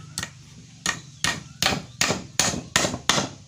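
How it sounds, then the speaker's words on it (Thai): Hammer blows drive the legs of a wooden plant pot shelf, built with 60 cm stand legs: seven sharp, evenly spaced strikes, close and loud, with no talking. "ก็มาตอกขาด้านล่างนะครับ"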